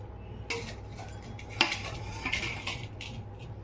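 Vegetable biryani is served onto a plate, with metal utensils scraping and clinking against the dishware in a few close, sharp bursts.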